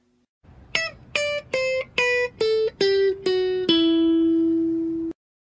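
A guitar plays the Aeolian mode descending as eight clear plucked notes stepping down at a steady pace. The final low note sustains and rings for over a second before cutting off.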